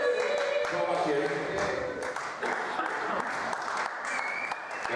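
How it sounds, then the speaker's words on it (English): A theatre audience bursts into a big round of applause during a live comedy show, a dense, sustained patter of many hands clapping that stays loud and full for the whole stretch. "big round of applause"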